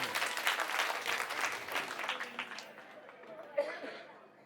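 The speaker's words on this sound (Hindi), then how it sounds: "एक बार जोरदार ताली अपने लिए बजाइए सब लोग।" A large outdoor crowd at a Delhi election political rally claps loudly and steadily, the applause thinning toward the end with scattered voices and chatter.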